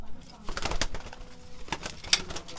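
Pigeons coo during courtship driving in a small, dark nest space, with soft low cooing and some fluttering and clicks close by, while a person talks over them.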